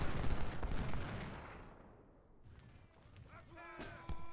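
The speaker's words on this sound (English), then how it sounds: "The butcher's getting artillery shot at him." Artillery fire in the Civil War strategy game Ultimate General: Civil War: a dense, loud roll of booming blasts that fades over a couple of seconds, then renewed shots with a sharper report near the end, a voice talking over it.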